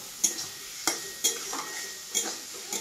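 Sweet capsicum chillies and coriander leaves fry in a pan, with a soft sizzle under several sharp clinks and scrapes of a utensil stirring against the metal.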